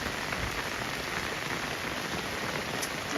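Steady rain falls without pause, a dense, even patter on a surface that holds at the same level throughout, with no voices.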